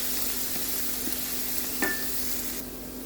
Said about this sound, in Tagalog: Once our olive oil hot, let's fry our garlic.